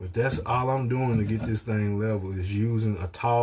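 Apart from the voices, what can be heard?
No everyday noises stand out.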